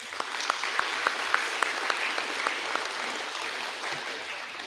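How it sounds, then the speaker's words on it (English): Applause for teachers at a 7th grade school awards ceremony: a hall of clapping heard from a distance, soft and steady, with a few sharper individual claps standing out near the front. "I would also like us to give a round of applause to your teachers."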